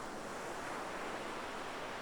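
Ocean waves wash in a steady, soft roar of surf with a breezy hiss, evenly sustained and fairly faint, with no voices.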